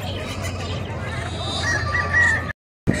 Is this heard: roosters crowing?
yes